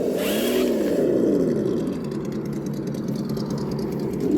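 A Traxxas TRX4 RC crawler runs in second gear with a whirring electric motor. The drivetrain pitch rises and falls, and a louder burst comes near the start.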